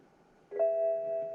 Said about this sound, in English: Little gong from the car, just to let you know that it's all good.